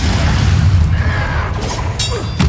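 A Confringo blast in the game Hogwarts Legacy booms loudly, a dense rumbling explosion with crackling debris that holds at full volume throughout.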